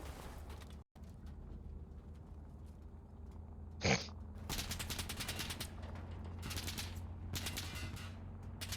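Automatic gunfire in the shooter game Insurgency Sandstorm, bursts of rapid shots starting after a single sharp bang, repeating loudly in several clusters over a steady ambient rumble.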